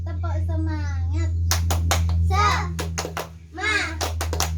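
Third-grade schoolchildren in a classroom do a rhythmic group clap in short bursts of sharp, quick hand claps, with children chanting between the bursts and a steady electrical hum underneath.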